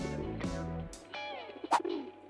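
Pigeons coo while being fed, with several soft, rounded coos and a few sharper bird calls in short succession, close and fairly quiet, with no voices.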